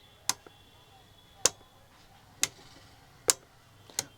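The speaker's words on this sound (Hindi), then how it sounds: "स्पीकर में हल्की हल्की टिक टिक सुनाई देती है मुझे" A speaker on a Stranger Cube 40 type set gives faint, sharp ticks as the set is switched on and off, five separate clicks spread about a second apart over a quiet background hum.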